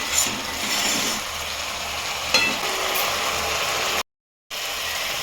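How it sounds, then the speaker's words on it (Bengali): Tomato and spices frying in a pan while being stirred for a dhaba-style vegetarian tarka dal, a steady close sizzle with small scraping clicks, briefly cut to silence near the end. "ভালো করে কষিয়ে নেবো টমেটো"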